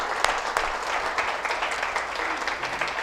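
A church congregation applauds to welcome first-time visitors, a full, steady round of clapping from many people that stays even and moderately loud with no voices over it.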